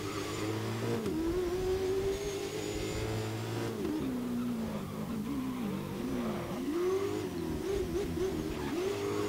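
In the GRID racing game, a supercar's engine howls along close and loud, pitch sliding down and up repeatedly as it brakes, shifts and accelerates through corners.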